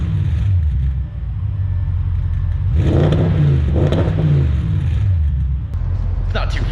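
An Audi A7/S7 engine with a newly installed valve-controlled exhaust idles with a deep rumble, then revs up twice in short bursts before settling back; a voice speaks faintly over it.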